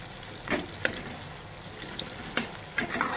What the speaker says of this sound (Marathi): त्यामध्ये घालूयात तमालपत्र आणि परतून घेऊयात